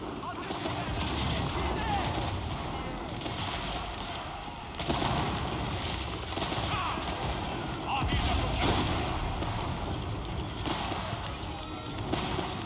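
Great bombard siege cannons fire during an Ottoman siege in Age of Empires, with a few heavy booming blasts standing out over a busy, continuous game soundscape of bird calls and background battle noise.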